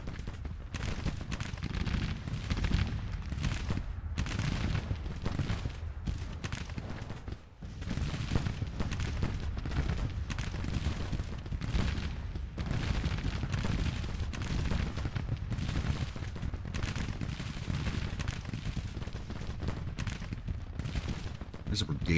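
Artillery bombardment and scattered gunfire from the Civil War strategy game Grand Tactician roll on continuously at moderate volume, with dense crackling shots and deep booms under occasional talk.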